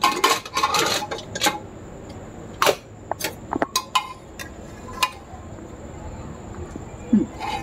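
A pot of mutton being opened: sharp metallic clinks and scrapes of a lid and utensils against cookware, clustered at first, then sporadic knocks over quiet kitchen background.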